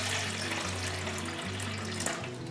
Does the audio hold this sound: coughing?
no